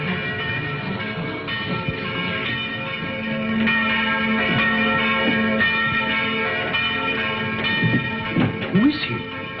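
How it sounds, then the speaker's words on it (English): A church bell tolls in a 1952 film soundtrack, its ringing tones mixed with heavy background sound and accompanying music, and voices speak briefly near the end. "Did he ring the bell to say the gauntlet had come home?"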